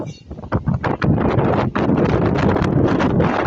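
Strong wind by the sea in Oriental Mindoro, Philippines, buffets the microphone in loud, rumbling gusts, briefly choppy at first and then a constant roar.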